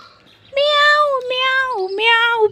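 A cat meows three times in quick succession, close and loud, each cry drawn out and wavering in pitch.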